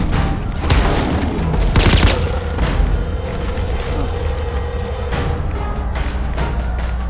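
Gunfire in the modded video game Fallout 4, a dense barrage of loud booming shots with one heavy burst, followed by a continuous rumbling roar of fighting.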